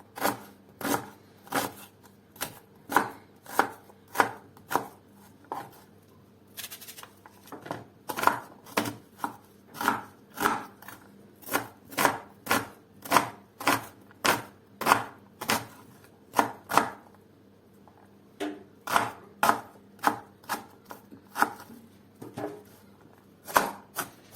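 Rapid, steady knife chops through green beans on a cutting board, crisp and close, in quick runs with short pauses between batches; no talking.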